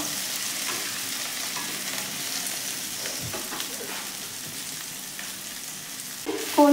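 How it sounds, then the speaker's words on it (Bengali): Cut eggplant and potato, lightly salted, fry in a pan with a steady close sizzle and occasional stirring scrapes, ending with a sharper clatter. "যখন এটা ভাজছি অল্প নুন দিলাম, নুন দিয়ে এটাকে ভালো করে আমি ভাজবো"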